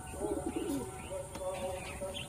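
A Madrasi pigeon coos softly and repeatedly at close range, with a few faint chirps behind it and no speech.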